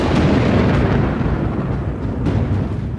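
Low rumbling thunder rolls steadily from a brewing afternoon storm on the African plains, a dense, loud, continuous roar with no voices.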